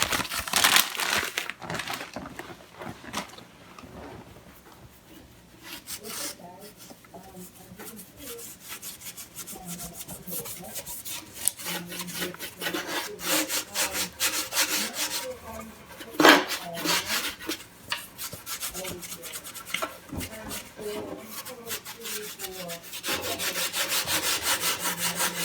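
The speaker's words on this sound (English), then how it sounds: "we use a really fine steel wool" Very fine 0000 steel wool rubbed by hand over a Vogelzang Ponderosa wood stove, a steady raspy scrubbing in repeated back-and-forth strokes, close and moderately loud, with brief pauses between passes.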